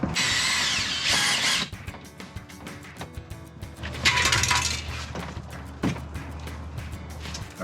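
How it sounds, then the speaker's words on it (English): Drilling the heads off expansion rivets in a camper roof: a power drill whines in loud bursts near the start and again midway, with ratcheting, grinding mechanical noise between them, close up and without talk. "all we really have to do is drill the heads off of them"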